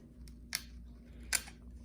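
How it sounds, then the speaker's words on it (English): Two quick, crisp snips of sharp scissors poking a small hole in paper, close and quiet, against a faint background hum. "So I have my very sharp scissors."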